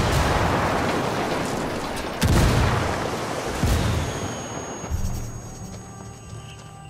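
A frag grenade explosion in Ghost Recon Wildlands lands amid heavy gunfire: dense rolling shots and booms, a few sharper heavy blasts, then a fading tail with a ringing tone, loud and close.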